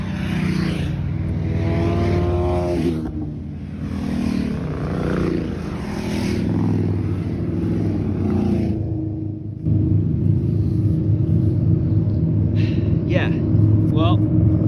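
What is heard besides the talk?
motorcycles passing by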